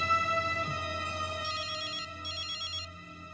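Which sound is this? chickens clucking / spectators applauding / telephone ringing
telephone ringing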